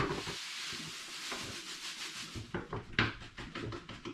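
Dextrose monohydrate brewing sugar, about 1.8 kilos, poured into a pan for a Vimto and hops cider, giving a steady granular hiss and rustle with a few louder shifts and taps near the end.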